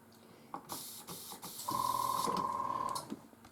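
Airbrush spraying thinned paint onto a 1:35 M3 Lee model tank turret, a soft steady hiss with brief bursts and a sustained stretch near the end, quiet and close, no voices.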